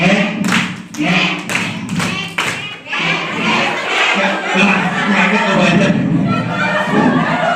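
A group of parents claps a short counted rhythm of quick hand slaps, then lively crowd chatter and chuckling take over and carry on loudly to the end.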